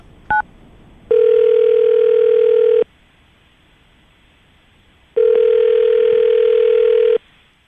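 Telephone ringback heard on a radio prank call: a short chirp, then two long steady tones separated by a pause of silence, clear and loud with no talk.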